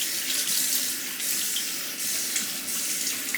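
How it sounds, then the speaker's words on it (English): Running tap water rinses soap off a blade being honed at a sink, a steady close hissing splash that holds evenly for a few seconds with no talking. "carefully rinse away the soap and whatever is on there"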